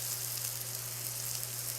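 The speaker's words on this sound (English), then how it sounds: "Enjoy the burger sizzling." American wagyu burger patties sizzle steadily in a hot pan, a close, even frying hiss without talk.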